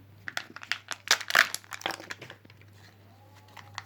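Kinder Surprise egg toy wrapper torn open close by, a burst of quick crinkling and tearing rustles that thins out into quieter handling, with a steady low hum underneath.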